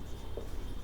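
Chalk or marker writing on a board during a maths lesson, a brief soft scratch close by over a low steady room hum, with no talk.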